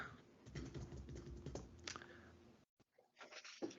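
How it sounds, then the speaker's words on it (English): Keys clicking on a computer keyboard in a quick, irregular typing patter at close range, with a brief silent gap near the end before a few more taps. "Clicking off the keyboard."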